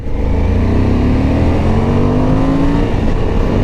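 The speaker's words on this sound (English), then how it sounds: "I feel like you have to work that first gear pull away a little bit." A Suzuki V-Strom 1050 DE motorcycle pulls away in first gear with a loud, close engine drone. The revs climb steadily over several seconds beneath heavy wind rumble.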